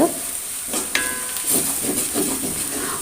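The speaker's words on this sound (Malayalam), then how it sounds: "ഇനി നല്ലോണം അതൊന്ന് വാട്ടിയെടുക്കാം" Spices and chili powder sautéing in a pan for a dal palak curry, a steady close sizzle with stirring scrapes and a brief sharp metallic clink near the start.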